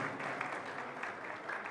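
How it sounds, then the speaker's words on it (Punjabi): Applause from an audience honouring Punjab's Finance Minister at a lecture event, a dense burst of many hands clapping at moderate distance across the short moment. "ਸੰਸਥਾ ਵੱਲੋਂ ਸਰਦਾਰ ਹਰਪਾਲ ਸਿੰਘ ਚੀਮਾ ਦਾ ਸਨਮਾਨ, ਤਾੜੀਆਂ ਜ਼ਰੂਰ ਹੋਣੀ ਚਾਹੀਦੀ।"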